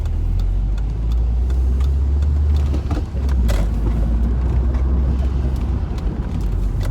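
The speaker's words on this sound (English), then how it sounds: "by taking a drive in my car." A car drives along under a steady, loud engine and road rumble, heard from inside, with a few faint clicks and knocks over it.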